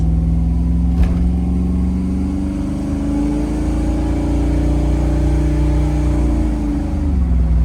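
A 1988 Chevrolet Monte Carlo SS V8 pulls under acceleration while driving, a loud, close, steady engine drone with rising and settling tones through smooth shifts, and no talk over it.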